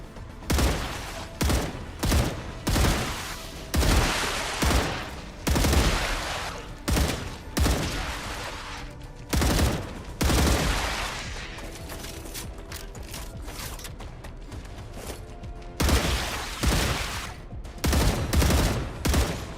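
Gunfire in the video game StarRupture comes as repeated loud bursts of automatic shots, separated by brief pauses and mechanical reload clatter, with no talking over it.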